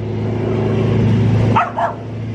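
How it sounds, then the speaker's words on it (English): A dog gives two or three quick barks at a passing truck, over its steady low engine rumble. "She likes to bark at trucks."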